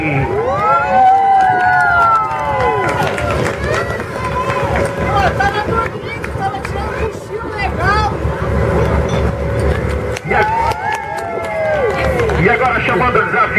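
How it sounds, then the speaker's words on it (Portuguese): A crowd aboard a pirate boat tour at Balneário Camboriú applauds and screams hysterically, shrieks and whistles rising over a loud, continuous din of cheering and clapping. "Eu quero ouvir muitos aplausos e gritos histéricos"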